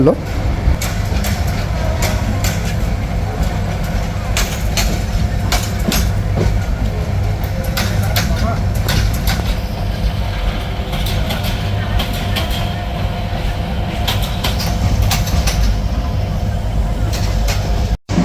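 Steady rumble of the Mahanagar Express passing another train on the Chattogram route, with a continuous low engine drone and rattling wheels throughout, ending abruptly.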